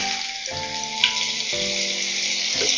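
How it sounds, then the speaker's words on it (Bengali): Chopped onions tipped into hot oil with cumin, erupting into a loud, continuous close sizzle while a faint steady tone runs underneath. "পেঁয়াজ কুচিটা এবার আমি দিয়ে দিচ্ছি"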